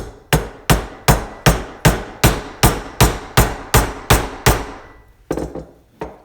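An oil seal is tapped into place with a hammer on a 1981 Yamaha G1 golf cart: about a dozen sharp, evenly spaced metallic knocks in a steady rhythm, then a short pause and two more close strikes.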